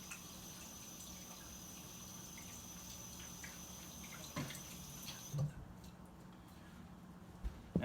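Water runs from a home kitchen tap as hands are washed, a soft steady hiss with a few light clinks and taps, then the flow stops partway through and only faint small knocks remain.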